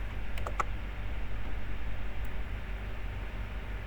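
A few sharp key taps on a computer keyboard, pressing the Ctrl+U shortcut to run a program. A quick cluster of clicks comes early, followed by one lone tap over a low, steady hum.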